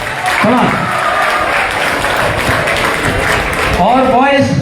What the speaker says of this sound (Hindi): जोर से ताली बजाओ इसके लिए